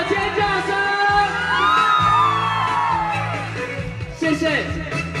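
Screams and high whoops from the back of an outdoor concert audience in Su'ao, Yilan, stay loud and sustained, then thin out near the end as one sharp bang cuts through.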